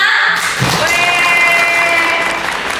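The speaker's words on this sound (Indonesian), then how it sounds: "Mana tepuk tangannya buat kita semua?" Audience applause at a live hosted event run by an MC school in Surabaya: loud, dense, continuous clapping that fills the whole stretch without a break.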